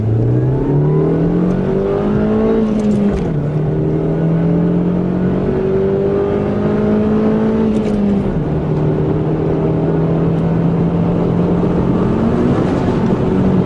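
A Ford Focus accelerates hard from a standstill to about 100 mph, engine note climbing through several gears with brief dips at each shift, heard steadily from inside the car with no talking.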